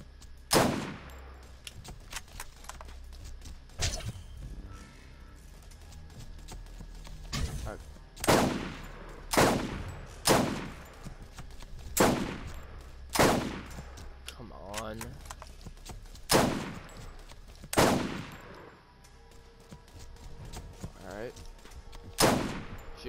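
Gunfire in the video game Borderlands: a string of sharp, loud shots spaced a second or two apart over a low game background, with people talking in between.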